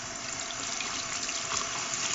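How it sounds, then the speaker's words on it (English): Water splashing and running steadily into a sink as it is poured out, a continuous close, moderately loud rush with no pauses. "But I'm going to pour that water out"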